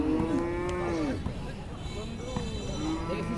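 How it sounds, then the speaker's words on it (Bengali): Cattle at a rural livestock market in Phulpur, Mymensingh, moo in long, drawn-out calls, one loud and close, another following later, under a background of crowd chatter. "গরু দেখতেছি"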